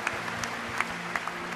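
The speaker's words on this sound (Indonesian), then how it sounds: "Tepuk tangan satu kali lagi bagi Tuhan kita." A church congregation at a Sunday service claps briefly with a few scattered voices, a soft, moderately distant patter over a low steady hum.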